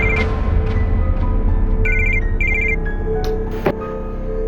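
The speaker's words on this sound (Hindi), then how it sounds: "किसका फोन है?" An indoor telephone rings in short repeated electronic bursts, loud and close, ending with a brief click as it is picked up.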